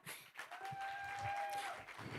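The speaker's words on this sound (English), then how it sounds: "A better round of applause for Michael." Audience applause at a startup pitch summit in Nairobi, a brief burst of moderate clapping lasting about two seconds with a thin steady whistling tone above it.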